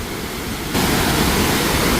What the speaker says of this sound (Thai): บรรยากาศข้างลายพี่น้องฟังเสียงน้ำตก